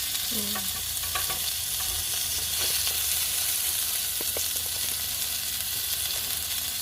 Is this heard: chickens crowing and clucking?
no